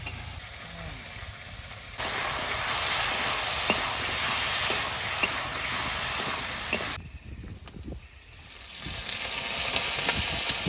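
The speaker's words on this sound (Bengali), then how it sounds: "আলু একটু ভেজে নিয়েছি এবার হলুদ দিয়ে দেবো" Potatoes frying in a pan hiss loudly and steadily up close, the sizzle cutting out briefly and then surging back as turmeric goes in, with scraping stirs and no talk.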